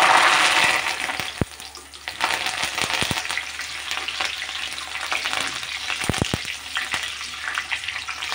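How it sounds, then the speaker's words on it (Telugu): Curry leaves and coriander frying in hot oil as a garnish for prawn pakodi, a steady dense sizzle with a burst of spattering at the start and scattered sharp clicks of utensils against the pan. "ఇప్పుడు గార్నిష్ కోసం చిన్న కరివేపాకు, కొత్తిమీర నూనెలోనే ఫ్రై చేసుకుందాం."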